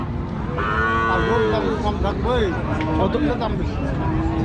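A cow moos loudly nearby, long drawn-out calls over a busy cattle market crowd at Choubaria, Bangladesh, with people talking in the background.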